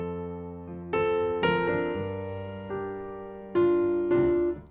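Sampled piano from the Keysuite bundle, heard through its mono mic: a few sustained chords struck one after another, clear and close with long ringing decay and no talking.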